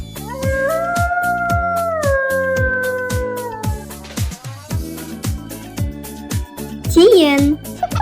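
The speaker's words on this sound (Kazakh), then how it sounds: "Қасқыр." A wolf's long, wavering howl rises and holds for about three seconds, then fades, set over a steady rhythmic music beat. A brief, higher yelping cry follows near the end.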